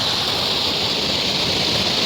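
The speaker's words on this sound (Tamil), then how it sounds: "இதுதாங்க நம்ம ஏரி ஏரி கோடி வழிகிற இடம்" Steady roar of water cascading down where an overflowing lake spills over, broadband and continuous, close by with no talking.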